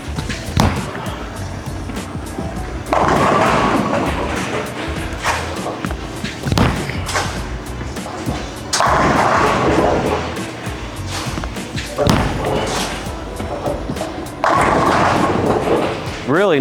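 A bowling ball rolls down a lane and crashes into the pins. Several long rolling rumbles are each followed by a clattering pin strike, amid the steady background noise of a busy bowling alley.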